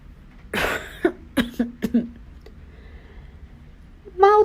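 A single light cough sounds close and brief, followed by a few small mouth clicks and quiet pauses.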